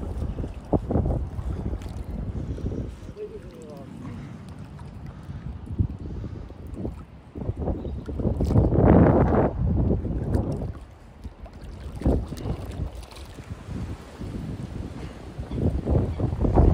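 Strong wind blows across a lake shore at a fishing water, buffeting the microphone in loud gusts that rise and fall, with a faint lapping of water underneath.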